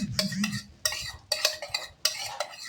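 A long bean omelette fries in a pan, giving a run of bright, scraping stirs and clinks in four or five bursts, with a soft sizzle filling the gaps.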